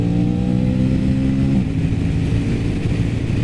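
An Aprilia RS 660 motorcycle engine drones loudly and close, with a steady low harmonic hum that shifts abruptly partway through as a quick-shifter gear change cuts in, then settles into a rougher note.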